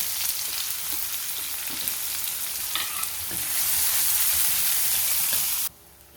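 Chopped onions fry in hot oil with cumin, mustard seeds and a pinch of asafoetida, a dense, loud, steady sizzle with occasional stirring scrapes that cuts off abruptly near the end.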